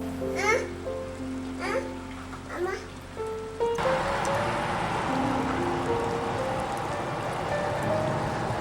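Steady rain falling on a cold, foggy day, a dense hiss of drops that fills the second half after a child's babbling and chatter in the first few seconds.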